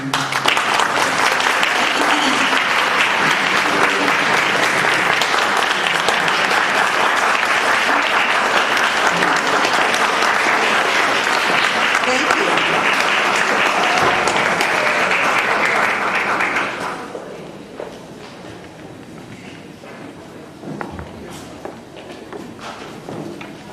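An audience at a community tenth-anniversary celebration applauds loudly and steadily for about sixteen seconds, then the clapping drops away to scattered claps and room noise.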